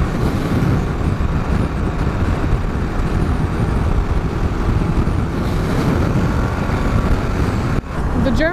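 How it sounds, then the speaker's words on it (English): Heavy, steady wind roar buffets a cheap helmet-mounted microphone on a motorcycle accelerating along a highway, a loud continuous rush with engine and road noise blended in and no speech. "accelerating on the highway. See how bad the wind noise gets."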